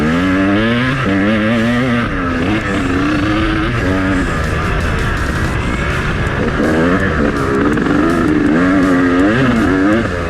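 A KTM 300 dirt bike engine revs hard and close, its pitch climbing and falling in repeated surges over a continuous loud two-stroke drone, with no talking over it.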